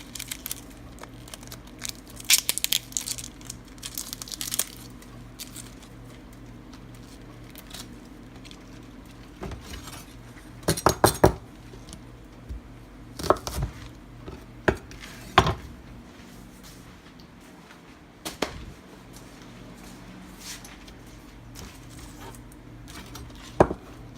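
A knife chopping green onions on a cutting board in a home kitchen, heard as sparse, irregular knocks and clusters of taps over quiet room noise.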